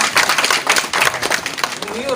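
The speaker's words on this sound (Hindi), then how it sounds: "दोस्तों ताली मारो सा" Audience clapping at a poetry gathering and turban-tying ceremony, a dense burst of many hands close by, steady and ongoing, with voices talking over it.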